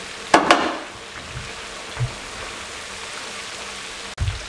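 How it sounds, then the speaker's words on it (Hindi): Small pieces of Lahori masala fish deep frying in oil, a steady soft hiss with a few brief stirring knocks and clicks. "ये फ्राई हो रही है, तकरीबन 8 मिनट हो गए हैं इसको।"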